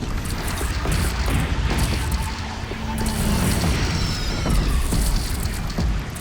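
Cannon fire and heavy booms in the video game Horizon Zero Dawn during a platform battle: continuous loud rumbling with repeated sharp blasts, dense and unbroken throughout.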